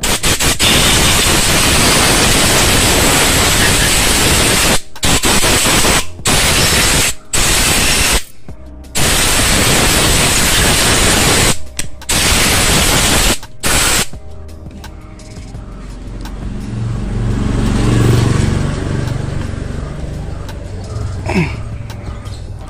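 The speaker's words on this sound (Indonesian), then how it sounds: "Semprot udara." Compressed air blasts clean Yamaha Mio J/GT scooter parts during a tune-up, loud hissing bursts broken by short pauses, then easing into a softer, lower rush.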